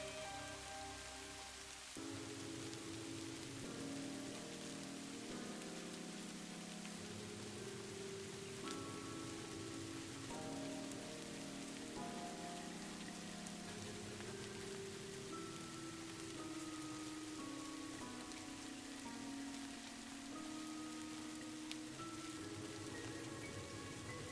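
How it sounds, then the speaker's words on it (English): Continuous rainfall drums on surfaces at a constant, moderately loud level, a sustained hiss of drops with no talking. "I love the sound of rain. It's so soothing and calming."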